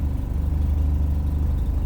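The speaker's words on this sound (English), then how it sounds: "A little loud because I had to patch the exhaust back together again" A car with a patched-together exhaust runs at idle in neutral, giving a steady, loud low rumble with a throbbing pulse and no talking.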